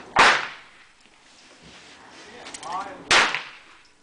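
Two sharp, loud revolver gunshots, likely .44 Magnum, about three seconds apart, each with a quick decaying echo, with faint murmuring voices between them.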